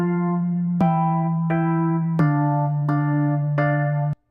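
A beat's chord progression with root notes doubled an octave down plays six sustained, bell-like chord hits over a steady low bass tone, evenly spaced and loud, ending abruptly.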